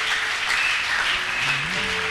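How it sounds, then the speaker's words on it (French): A church congregation applauds loudly and steadily, a dense wash of many clapping hands with faint cheering tones rising over it. "Est-ce qu'on peut l'acclamer très fort?"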